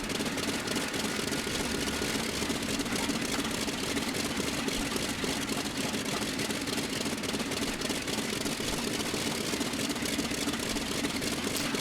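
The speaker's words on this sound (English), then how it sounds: "I love that sound of the engine at low RPMs. That like kicking sound of the cylinders." An F4U Corsair radial engine idling at low RPM in the FSX flight simulator, a steady, dense rumble with a rapid knocking pulse from the cylinders, constant and loud with no voices.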